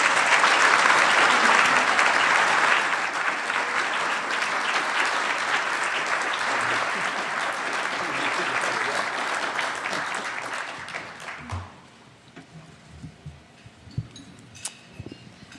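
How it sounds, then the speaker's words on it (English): Audience applause welcoming candidates at a State Treasurer debate: a dense, loud burst of many hands clapping that holds steady for about ten seconds, then thins to scattered claps and fades into near quiet. "Please, let's welcome our candidates with a round of applause."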